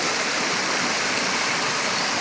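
Rainwater rushing through a street after the first rain of the season, a loud, steady broadband flow close by with no pauses.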